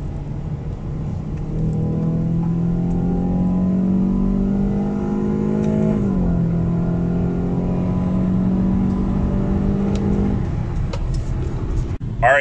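A 2012-2017 Toyota Camry 2.5 four-cylinder with an aftermarket intake downshifts and accelerates hard from 50 mph. Its engine drone climbs steadily, dips briefly at a shift, then rises again before backing off, loud and close from inside the car.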